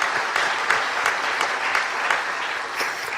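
Congregation applauding during a Friday overnight church worship service, a steady burst of many hands clapping together with a few sharper accents, no talking over it.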